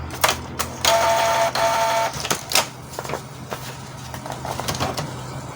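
An inkjet printer starts up after a new cartridge is fitted, giving a close mechanical whir and a sustained feed motor tone broken by clicks and clacks of the print head and paper handling.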